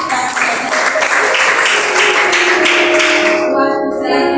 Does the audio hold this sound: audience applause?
yes